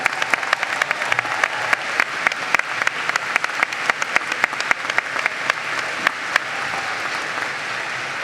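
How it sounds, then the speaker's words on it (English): A large crowd at a university graduate commencement ceremony applauds faculty and staff, steady dense clapping with sharp individual claps standing out, sustained evenly throughout. "graduates, give them a round of applause for what they've done to be supportive of you"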